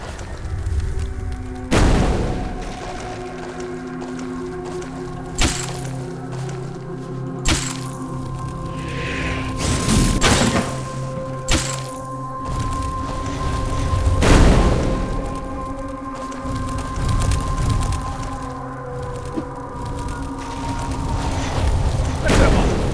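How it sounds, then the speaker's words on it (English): Frost bombs burst in a castle level of the LOGII game as repeated sharp, booming cracks spaced several seconds apart, ringing over a steady tonal music bed. "Right, frost bombs at the ready."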